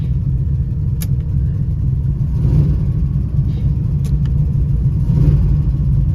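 An old Buick Regal, smoking from the exhaust, idles with a loud, steady low rumble close by, with a couple of sharp clicks and faint swells in engine tone as a drive is attempted, no one speaking.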